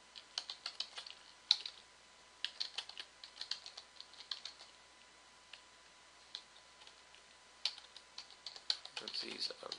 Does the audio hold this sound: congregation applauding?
no